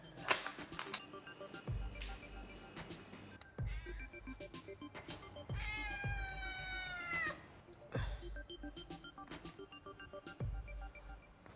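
A cat meows once, drawn out and clear, amid repeated thumping and clattering sounds at a steady interval.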